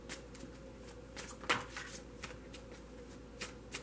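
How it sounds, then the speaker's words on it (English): Tarot cards are shuffled close up in quick riffling bursts, a run of crisp flicks and snaps repeating at an uneven rhythm. "I'm just going to keep shuffling here."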